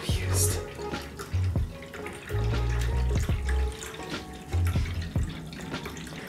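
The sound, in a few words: cat water fountain running, NPET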